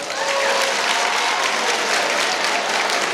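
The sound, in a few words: applause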